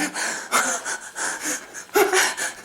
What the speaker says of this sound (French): Notre respiration est saccadée.